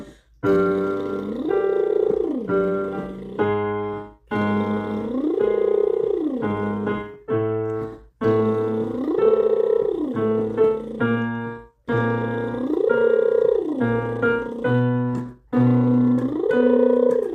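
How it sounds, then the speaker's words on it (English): Repeated buzzing lip trills glide up an octave and back down, phrase after phrase, with short steady notes between the slides. "We're going to start on a lip buzz, and it's going to be a lip buzz slide,"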